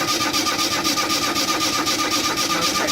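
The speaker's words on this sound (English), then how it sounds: "Well, the starter works okay though, doesn't it?" The starter on a 1970 Renault 16GL cranks steadily in a loud, fast rhythmic whirring chug that stays even throughout, with no sign of the engine catching.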